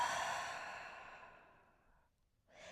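A long audible exhale during a yoga flow, loud at first and gradually fading over about two seconds, followed by the start of another breath.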